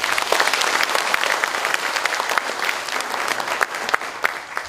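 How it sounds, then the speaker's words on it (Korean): A meeting audience at a union cadre gathering bursts into vigorous applause, dense rapid clapping from many hands in a room, steady and fairly loud for the whole stretch. "서로 상호 격려하는 차원에서 힘찬 박수 부탁드리겠습니다"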